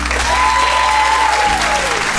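A television studio audience claps on a talk show during a debate about dating a bus driver, a loud, dense, even burst of applause with a thin tonal whine running through it.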